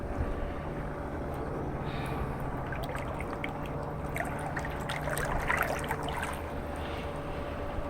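Pool water trickles and splashes steadily as it flows back into a saltwater pool fed by a sand filter pump, a faint continuous wash with slight surges.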